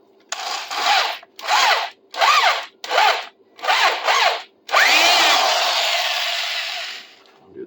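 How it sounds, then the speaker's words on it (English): Power drill boring into a metal bike trailer frame: a series of short, close whirring bursts separated by brief pauses, followed by one longer sustained drilling run that slowly trails off. "and drill into it."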